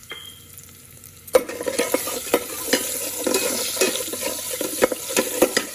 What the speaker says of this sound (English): let it splutter a little bit, and to which I'm going to add freshly chopped garlic.